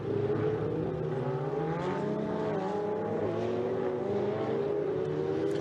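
Ferrari Challenge race cars at Circuit de Barcelona-Catalunya accelerating, a loud steady engine drone with rising and shifting pitch filling the whole stretch, no voices.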